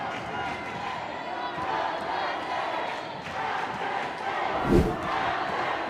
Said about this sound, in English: Big crowd now yelling Alchesay.